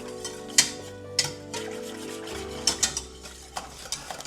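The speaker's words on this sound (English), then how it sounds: "We just want to whisk this till it's a thick paste." Tangzhong flour paste for milk bread is whisked in a bowl, producing irregular sharp clicks and scraping knocks of the whisk against the sides, close and fairly quiet with low hum beneath.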